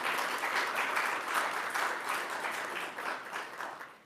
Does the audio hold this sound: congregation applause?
yes